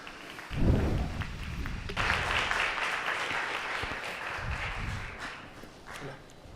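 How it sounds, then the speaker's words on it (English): Attendees at an international affairs conference applaud a panel, a moderately faint, sustained patter of clapping with low rumbling movement near the start and some shuffling as it fades at the end. "An applause for them."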